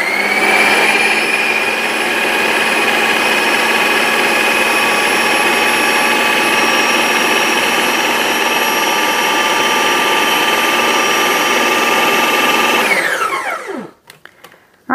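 Blender or food processor pureeing food, a loud, steady high whine running continuously for about thirteen seconds before winding down and stopping.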